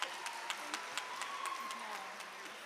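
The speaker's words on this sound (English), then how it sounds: "Let's do a better round of applause for the principal." A short, faint round of audience applause at a Latin GRAMMY education event, brief clapping heard with a voice in the room.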